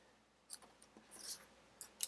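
Scissors make several quick, close, crisp snips through a small piece of paper for a stamping craft, in short clusters with brief pauses between them.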